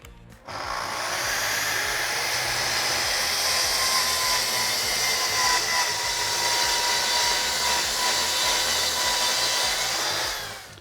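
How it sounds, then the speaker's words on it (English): Power saw cutting plywood guided along parallel guides while building cabinets, a loud steady whine running continuously for about ten seconds, close and alone with no talking. "Once that cut's done, I can remove my saw, slide my plywood out"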